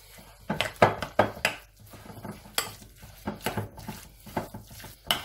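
Lamb meatball stuffing seasoned with salt and pepper is worked together by hand in a bowl, giving close, irregular squelching and soft clattering bursts that rise and fall without talk.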